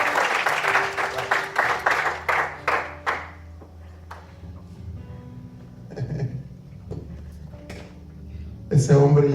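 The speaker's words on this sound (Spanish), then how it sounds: "Denle un aplauso al Señor por eso." A church congregation claps during a Spanish-language sermon, with a short run of sharp, rhythmic claps that fade within about three seconds. Then a voice speaks, with a few scattered taps.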